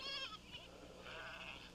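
Goats surrounding people in an outdoor rural setting bleat faintly, with a few wavering calls close together in a quiet scene.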